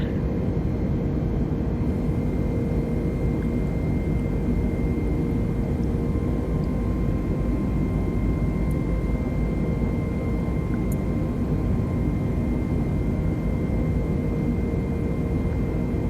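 An Airbus A320 climbs out after takeoff in Microsoft Flight Simulator 2020, its steady engine drone holding constant and loud throughout with faint tonal hums and no talking.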